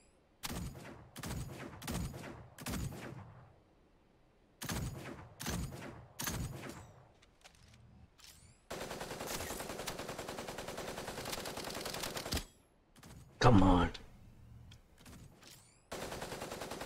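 Gunfire from the mecha shooter game Super Mecha Champions: clusters of sharp shots in quick bursts, then a sustained stretch of steady rapid fire and a louder burst, all close and loud with no talking.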